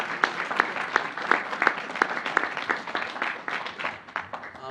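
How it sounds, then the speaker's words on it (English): A town hall audience claps for itself in a fairly thin round of applause, a few hands beating out a distinct rhythm, with faint voices underneath. "please give yourselves a round of applause"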